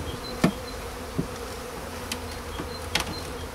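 Honey bees from an opened hive during an early-spring inspection hum in a steady, close buzzing drone, with a few soft knocks and clicks of handling on top and no voices.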